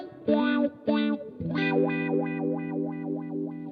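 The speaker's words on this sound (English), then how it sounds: "that is the sound of a wah to me in my head" Electric guitar played through a Xotic wah pedal, two short distorted chord stabs followed by a sustained chord whose tone sweeps rhythmically up and down several times, loud and close with no voices.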